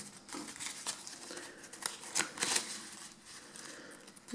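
Two five-euro banknotes being slipped into an envelope, soft close paper rustling and crinkling with a few sharper crisp bursts, quiet and alone.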